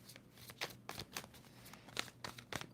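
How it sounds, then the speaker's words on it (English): A tarot card deck is shuffled close up in a series of quick, crisp riffling bursts, about six in under three seconds, with soft papery rustles between them and no talking. "2 more shuffles."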